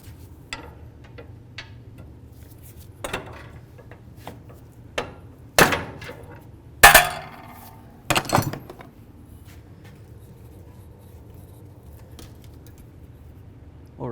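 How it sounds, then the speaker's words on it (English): A pry bar strikes the tab of a one-time-use metal boot clamp on the inner tie rod of a 2008-18 Chrysler Town & Country, giving sharp, scattered metallic knocks. The loudest comes as a cluster near the middle, with quiet gaps between blows. "I'm going to go right up against that tab and try to bonk it, and it should break it free"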